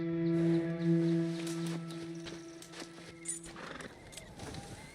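A horse in Red Dead Redemption 2 gives a whinny over a low steady tone, then hooves clop softly, with faint game ambience behind.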